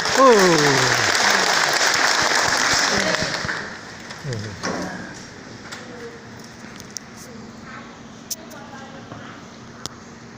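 Audience applause at a religious ceremony, a dense broadband wash of clapping that is loud at first and then thins out, with a man's speech running over the start and a few sharp isolated claps later.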